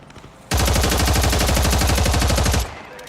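A loud, sustained burst of automatic gunfire in a video game gunfight, rapid even shots lasting about two seconds, close, with no talk.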